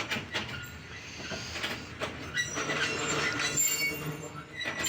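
Allama Iqbal Express halting at a fog-bound station, with rumbling wagons, metallic wheel squeals and clanks close by, uneven and shifting in loudness, no speech.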